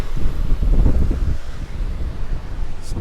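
Wind gusts buffet the microphone on the Indian Ocean shore by Galle Fort, Sri Lanka, with a low surf rumble underneath. The roar is steady and close, and nobody speaks.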